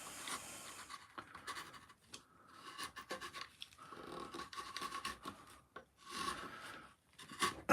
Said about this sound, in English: And I need to gouge this out.